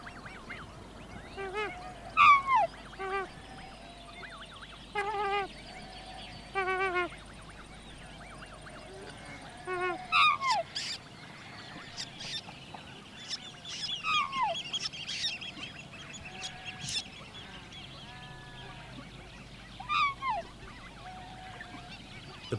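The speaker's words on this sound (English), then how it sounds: "The pukeko, or swamp hen, is a rail which came through Australia." Pukeko, the New Zealand swamp hen, calling outdoors: repeated harsh, honking screeches in short bursts, spaced a few seconds apart, moderately near over a quiet background.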